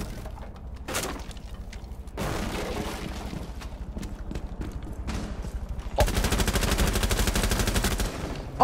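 Rapid gunfire from Rainbow Six Siege crackles in dense bursts, with a loud sustained automatic volley toward the end.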